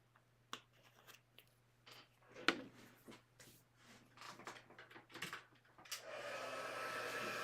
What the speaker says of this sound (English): I'm just going to grab my heat tool.